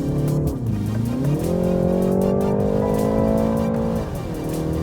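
A BMW 3 Series engine revs hard in Sports Plus mode, climbing to just under 7,000 RPM: a loud, close, continuous tone that rises, holds high, then briefly dips and recovers, with no voices.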